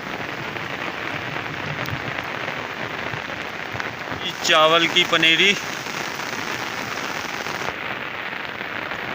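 Rain keeps falling over waterlogged farmland and a rice seedling nursery, a dense steady patter close at hand, with someone briefly speaking over it midway.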